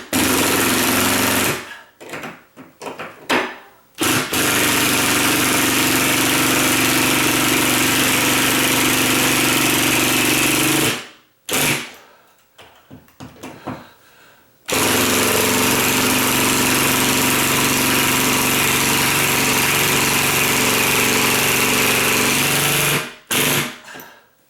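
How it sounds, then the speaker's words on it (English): Ratcheting drill driving screws into a ceiling fan pancake box, loud sustained whirring bursts broken by short pauses and rapid clicking ratchet stutters, with no talking. "my drill is one of the ratcheted ones, so you're going to hear it ratchet"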